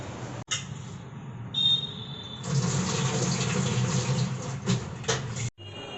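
Rice grains are rinsed under running tap water in a kitchen, a steady gushing splash broken by brief pauses and handling knocks, starting and stopping abruptly.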